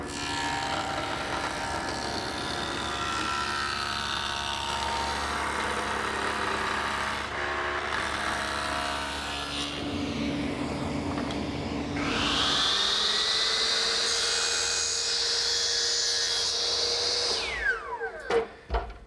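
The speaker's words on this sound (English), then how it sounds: "with the stacked dado head cutter set up in my table saw for a 3/4" width, I'm going to run a groove down the center of the piece of maple" A table saw fitted with a stacked dado head set to a 3/4-inch width cuts a groove down the center of a maple board. The blade whines steadily and loudly, the pitch shifts as the cut loads up, and the motor spins down at the end.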